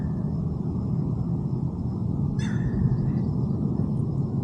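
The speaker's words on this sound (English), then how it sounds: "Dang bird teasing the crap out of us. Thought that was a monkey." A bird calls once in a park around a large artesian spring, a short bright cry that stands out briefly over steady outdoor background noise.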